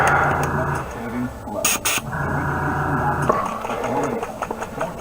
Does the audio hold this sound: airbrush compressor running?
yes